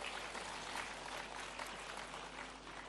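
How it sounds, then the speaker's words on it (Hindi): Audience applause at a government ceremony in the Raj Bhavan hall, a steady dense clapping heard faintly from some distance, without speech. "ताली तो बजनी चाहिए"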